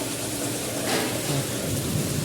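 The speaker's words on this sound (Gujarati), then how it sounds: "અત્યારે જોરદાર વરસાદ ચાલુ થઈ ગયો છે" Heavy rain pours down in a dense, continuous roar, with low rolling thunder rumbling underneath throughout.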